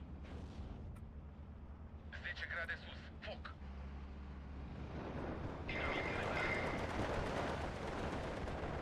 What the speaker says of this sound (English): Got a lot of MGs here.